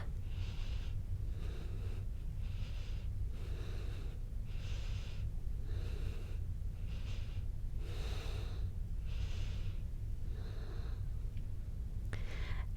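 Deep rhythmic breathing during a prenatal Pilates exercise in the third trimester, about ten close, soft breaths in and out at an even pace over a low steady hum, with no talking.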